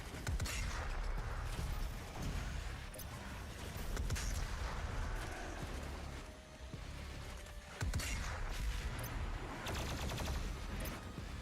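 Rapid gunfire and heavy blasts from the video game DOOM Eternal roll on throughout, dense fusillades with a few sharper cracks, loud and busy with no voices.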